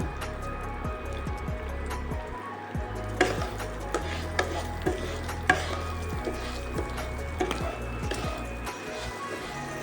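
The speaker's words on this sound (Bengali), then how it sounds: "গোবিন্দভোগ চালটা ভাজা হয়ে গেছে" Gobindobhog rice with turmeric fries in ghee, a soft, low sizzle under repeated spoon taps and stirring scrapes, close by with no voices.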